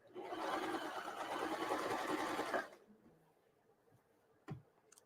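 Sewing machine stitching fabric in a kids' class making a heater bag, a rapid loud whirring run of stitches for under three seconds that stops abruptly, followed by quiet room tone and a single soft click.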